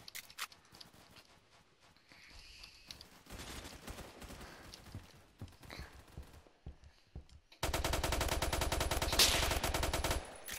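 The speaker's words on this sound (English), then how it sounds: "Where is he shooting us from?" Gunfire in Roblox Phantom Forces, starting as scattered, quieter shots and bursts, then turning into a loud, sustained, rapid stream of automatic fire for the last few seconds.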